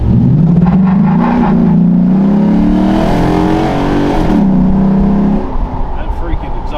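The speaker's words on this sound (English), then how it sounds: "That freaking exhaust cutout sounds like death." A Ford F-150 5.0 V8 truck revs loudly up close with its exhaust cutout open, giving a deep, raspy, sustained roar that climbs and falls over several seconds before settling back toward idle.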